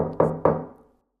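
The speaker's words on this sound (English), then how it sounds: "gave 3 loud knocks on the" Loud knocks on a door, as an audio drama sound effect: two sharp, close raps about a quarter second apart, each with a short resonant ring that decays quickly into silence.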